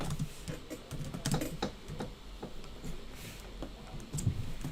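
Fast, uneven typing on a computer keyboard as code is entered, a close, steady run of light key clicks with no voice over it.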